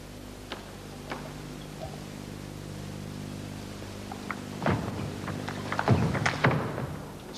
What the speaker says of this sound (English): that was a better shot from Douglas, the quick backhand